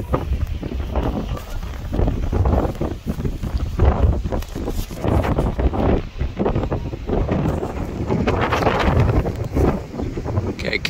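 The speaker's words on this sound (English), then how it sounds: "this is a little unusual with this wind" Strong wind buffets an outdoor microphone at a vineyard wedding gig, a loud, continuous low rumble with gusty swells throughout and no talking.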